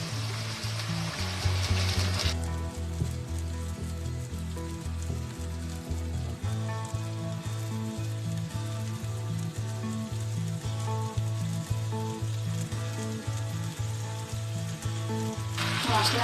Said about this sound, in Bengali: পেঁয়াজগুলো বাদামি করে ভাজা হয়ে গেছে। এর মধ্যে দিয়ে দেবো ম্যারিনেট করা চিকেনগুলো,